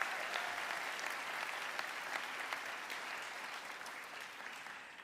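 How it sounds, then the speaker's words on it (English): An audience at a college commencement ceremony applauds faculty and deans on stage, sustained clapping with sharp individual claps standing out over a broad crowd sound that slowly tapers off. "Let's give them a round of applause."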